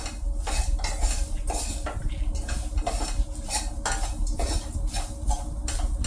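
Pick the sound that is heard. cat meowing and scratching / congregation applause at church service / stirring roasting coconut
stirring roasting coconut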